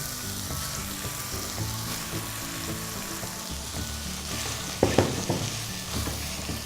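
Rice vermicelli noodles are stir-fried in a pan for Singapore-style rice noodles, a continuous close sizzle with a few sharp clatters of stirring near the end.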